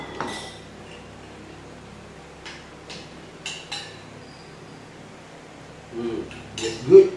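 Utensils clink against pots and dishes while tom yum is mixed with carrot and prawns, a few light scattered taps with one louder clank near the end, mostly alone over quiet room noise.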